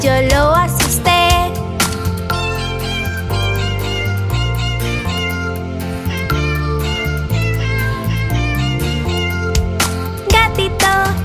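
Cat meows woven into a Spanish-language children's song, sounding repeatedly over a steady, loud musical backing with no speech.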